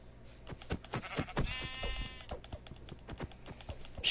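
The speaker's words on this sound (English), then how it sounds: "Sheep! Come back here." A sheep in Minecraft Bedrock Edition bleating one clear, wavering call near the middle, heard among scattered footsteps and other game noises with no talking.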